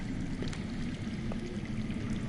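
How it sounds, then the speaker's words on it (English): Underground water runs steadily through the Game of Thrones Telltale game, a continuous low rushing flow with no breaks or talk. "I hear water. From underground."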